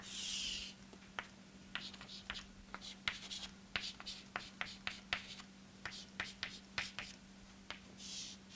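Chalk or marker strokes on a lecture board while a phase diagram is drawn: a series of quiet, irregular taps and short scratchy lines over a low steady hum, without speech.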